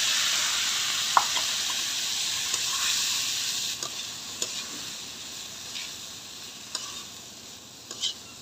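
Cut vegetable stems and potatoes go into hot oil with fried dried fish (chepa shutki) and sizzle with a steady bright hiss, while a few clinks and scrapes of stirring sound clearly over it.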